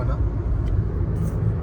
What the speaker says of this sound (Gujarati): આબુ રોડમાં ડાયવર્ઝન આપ્યું છે તો થોડો ટ્રાફિક લાગે છે મને.